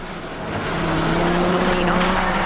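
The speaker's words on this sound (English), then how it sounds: "Let's ride with the Italian to experience the Mitsubishi in full flight." A Mitsubishi rally car at full speed on a gravel stage in Japan, its engine a loud, steady, high-revving drone that swells slightly and holds, heard from on board.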